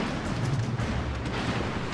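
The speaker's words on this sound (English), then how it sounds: "We get 3 torpedo hits, 3 floodings, and a 3rd destroyed ship." Torpedoes strike and explode against warships in the naval battle game World of Warships Legends, a heavy, rolling low boom with a dense rumbling tail that fills the whole moment.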